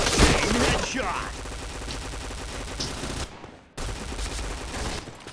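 Rapid bursts of automatic gunfire fill a first-person shooter match in Point Blank, dense and continuous with a brief gap near the end, while game voice announcements and players' chatter sound over the shooting.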